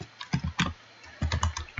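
Keys clatter on a computer keyboard as Python code for a pygame game is typed, two close, quick bursts of keystrokes separated by a short pause, with no talking.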